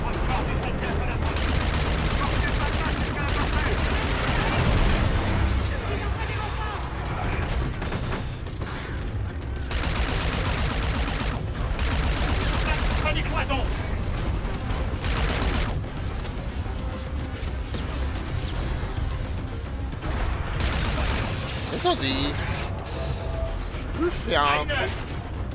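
Dense, continuous gunfire and bursts in the sci-fi shooter Call of Duty: Infinite Warfare, loud and sustained across the whole stretch with brief gaps, running under game voices and radio chatter.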